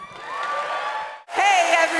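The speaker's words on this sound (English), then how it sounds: "y'all make me look good and start that applause" Cheering and whoops from the audience at the Grand Ole Opry, loud and lively, with a brief dip midway before the crowd swells again, and voices carrying over the noise.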